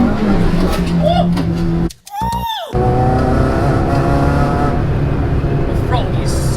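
A Renault Clio 182 engine revs and holds a steady drone, with a brief drop as the throttle lifts before the engine climbs again.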